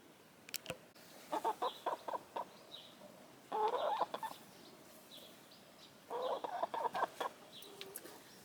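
Several chickens cluck in short bursts nearby, irregular and fairly quiet, with pauses between groups of calls.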